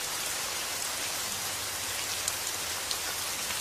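Steady rain falls continuously, a dense hiss of drops pattering on surfaces with no voices present, even and fairly close throughout.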